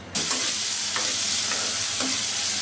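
Dry red chilies and five-spice seeds fry in hot mustard oil, a loud, close, continuous sizzle that starts abruptly, with a few spoon scrapes and clinks against the pan.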